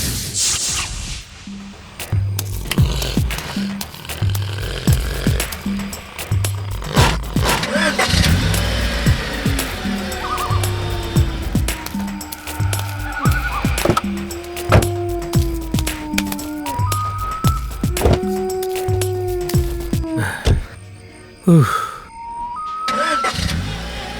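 A stalled car's engine cranks and restarts, with a low rhythmic engine rumble and revving running through the clip, loud and close, mixed with dramatic film sound and some voices.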